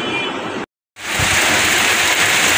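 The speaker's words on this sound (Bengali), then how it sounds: "দেখো আবার বৃষ্টি পড়ছে" Loud, dense hiss of heavy rain pouring down steadily, broken by a sudden brief silence before resuming at full strength.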